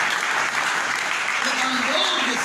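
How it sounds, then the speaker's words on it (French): A congregation at a Christian church service claps together in a steady, full burst of applause, with voices faintly mixed in beneath the clapping. "Applaudissez votre Dieu"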